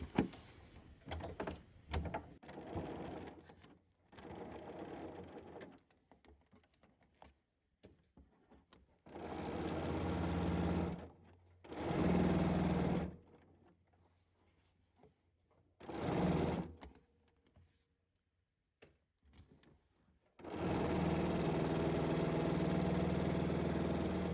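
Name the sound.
sewing machine stitching with freehand embroidery foot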